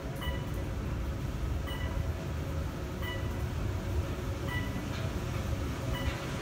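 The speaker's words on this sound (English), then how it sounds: "Fun and breezy old Otis modernized with Otis Series 2 M2 freight elevator." Modernized Otis Series 2 M2 freight elevator in an apartment building running steadily, a continuous loud low rumble with faint periodic clicks and rattles, no talk.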